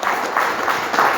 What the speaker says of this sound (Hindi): इसके डॉक्टर साहब के लिए पर जोरदार तालियां।